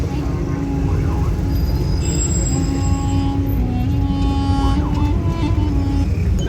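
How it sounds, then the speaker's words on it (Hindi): A metro train runs past with a steady loud rumble and high squealing wheel tones, set against continuous traffic noise on a busy street. "मेट्रो है ना?"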